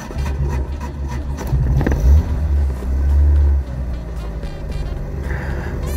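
A Volkswagen Golf Mk1 engine, freshly serviced carburetor, idles steadily with a low, even rumble, a couple of brief swells in revs, close by and without speech.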